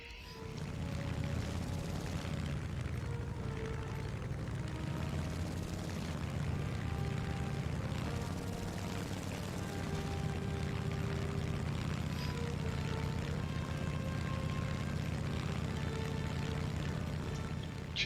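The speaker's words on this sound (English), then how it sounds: "I'll start up with my A6M5KO Ryzen, my favorite aircraft" An A6M5 fighter aircraft engine in War Thunder arcade play drones steadily and loudly, a constant heavy rumbling roar that holds without a break for the whole stretch.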